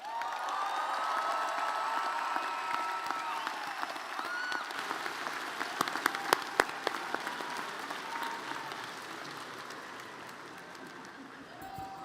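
A large crowd at a university College of Arts and Sciences commencement claps for the graduates in a broad, continuous wash, with scattered sharper claps and faint cheers, gradually fading toward the end.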